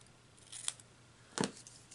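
Scissors trim paper for a graduation cap-and-gown gift card holder, giving two short, crisp snips about a second apart, close by and fairly quiet with a hush between them.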